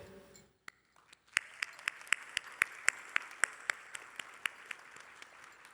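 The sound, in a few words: audience applause for graduating students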